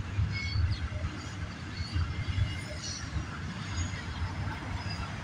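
Intermodal double-stack freight train rolling past, a steady low rumble of wheels and cars with faint squeals, close and continuous.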